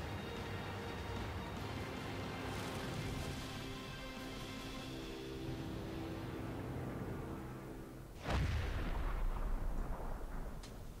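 A heavy tank cannon fires in World of Tanks, one loud close boom at about eight seconds with a deep rumbling tail, over a steady layer of engine drone and game ambience; the AMX 50-120 is a tier 9 heavy tank.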